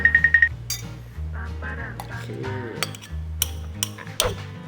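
Metal spoon stirring a sauce mixture with berry juice in a bowl, giving a quick run of bright clinks followed by scattered scraping taps and clicks against the bowl, close and fairly loud.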